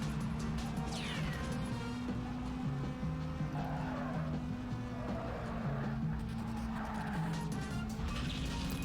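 A car in the Go Vacation racing game drones with a steady engine hum, with scrapes and squeals as it bumps along walls and a sharp squeal near the start.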